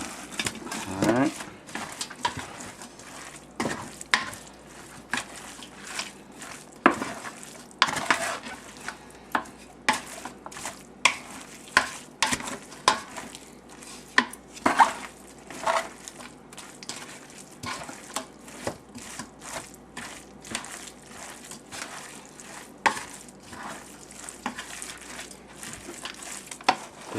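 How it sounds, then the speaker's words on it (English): Napa cabbage and kimchi paste are stirred and mixed by hand in a container, producing irregular wet squelches, slaps and clicks at close range, with quieter gaps in between. "Stirring this."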